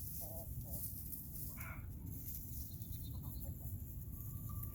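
Hens clustered around a rooster in a winter farmyard, giving a few soft, brief clucks and calls at moderate distance over a steady low rumble of background noise.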